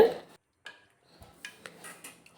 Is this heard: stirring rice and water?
yes